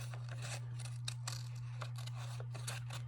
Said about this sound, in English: So now I'm cutting.